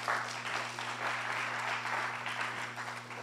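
A church congregation claps steadily in a dense, sustained round of applause, moderately loud, over a faint electrical hum.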